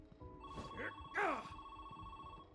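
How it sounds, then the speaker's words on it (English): A telephone ringing in the Samson video game: a faint, steady electronic ring tone running throughout, partly under a voice that speaks briefly over it. "Answer the phone."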